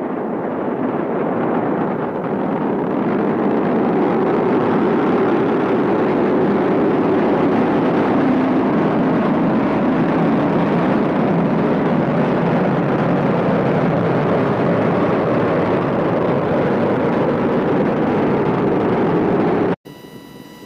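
A SpaceX Falcon 9 first stage roars during the Crew-7 Dragon launch: a continuous, heavy, broadband rumble heard from a distance, holding steady for about twenty seconds before abruptly cutting off.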